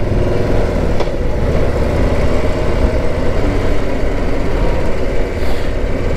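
A 2021 Harley-Davidson Street Glide Special with its 114 engine idles close by, a steady low rumbling throb that stays even and loud, with no talk over it.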